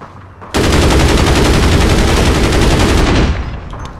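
Gunfire from a weapon in the online game APB Reloaded rattles out as a single loud, sustained automatic burst of about three seconds, dense and close, stopping abruptly before a quieter tail.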